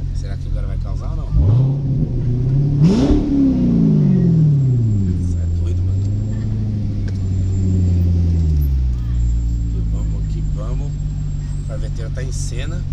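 A Corvette accelerates along a busy beach road, its engine rising in a loud rumbling rev that swells and falls as it passes close by, with someone talking over it.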